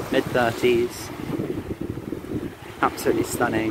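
Sea waves and gusty wind on Kalamaki Beach, Zakynthos, roar steadily beneath a man's close, clear talking, with wind buffeting the microphone throughout.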